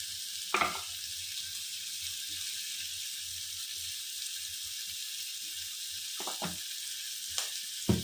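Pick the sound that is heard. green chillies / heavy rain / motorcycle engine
green chillies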